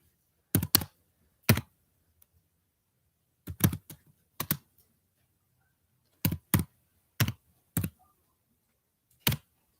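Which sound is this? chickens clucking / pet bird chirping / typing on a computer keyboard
typing on a computer keyboard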